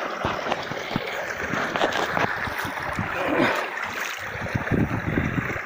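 Irrigation water gushes and gurgles through an old, neglected garden channel, spilling out of a gap in a steady, close, choppy flow.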